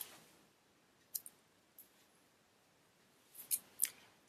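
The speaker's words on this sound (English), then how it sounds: "I'm going to come and cut the top spot off" Paper planner stickers being cut with scissors in a quiet room, a few faint, sharp snips spaced apart with near silence between them.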